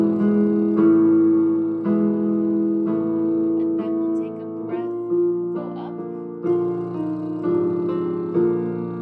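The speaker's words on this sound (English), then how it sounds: "The piano is going to sound like this." A piano plays a vocal exercise scale, a steady sequence of struck notes and chords moving up and down in regular steps, with a voice humming or buzzing along underneath.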